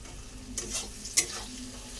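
Onions frying in oil in a wok, a soft steady sizzle with a few sharp scrapes and clinks of stirring, fairly quiet and near.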